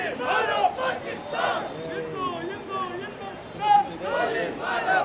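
A crowd gathers behind the speakers at a final tribute in Shivamogga. Chattering voices and shouts are close and overlapping, with people talking throughout.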